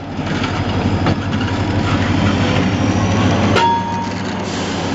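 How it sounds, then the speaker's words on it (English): A train rumbles steadily nearby the Gateway Arch in St. Louis with a low engine drone and clattering, a brief sharp metallic squeal near the end. "About the train rumbling."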